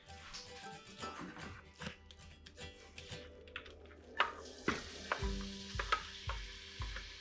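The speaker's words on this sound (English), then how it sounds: "So the first thing that we have to do is get an onion sauteed up" Onion blitzed in a food processor sizzles as it sautés in a pan on the stove, a soft crackling fry punctuated by louder clattering stirs and utensil scrapes toward the end.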